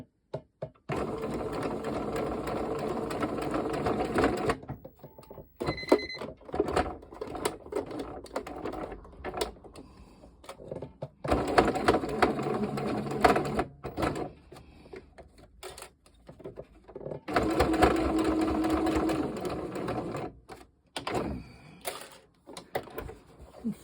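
A sewing machine stitches a fabric gnome's beard down, running in three long bursts of rapid needle chatter separated by pauses and short stop-start stitches.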